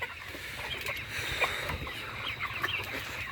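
Layer hens in a poultry farm cluck and murmur softly at evening watering, a faint, continuous flock chatter at some distance.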